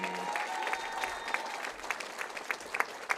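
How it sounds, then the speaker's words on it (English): Audience applause for state individual bowling championship finalists at a Wisconsin high school bowling event, a steady wash of clapping with some sharper individual claps, moderately distant and continuous throughout. "one big round of applause for all of the finalists for our state individual championships"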